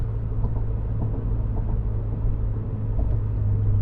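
Steady low engine and intake drone of a car with a stock intake heard from inside the cabin while driving, a continuous loud rumble with no talking.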